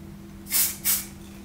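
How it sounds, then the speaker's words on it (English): Two quick hissing bursts from an Armaf body spray pump, close and fairly loud, with a brief pause between them and no talking. "I'm going to just spray it on while we sit here so that I can tell you."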